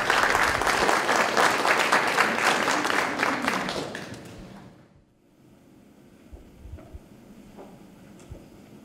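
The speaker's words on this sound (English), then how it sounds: "let's give a round of applause to our speakers from Beijing" Audience applause for visiting speakers at an education conference plenary session, dense and sustained, tapering off around the fourth second into quiet room noise with a few faint knocks and shuffles.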